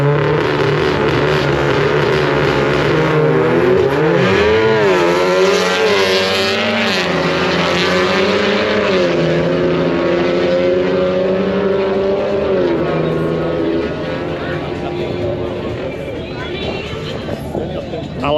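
Two tuned drag cars launch side by side at Crail Raceway, engines roaring loud and steady with rising and falling gear changes through the run, a commentator's voice underneath.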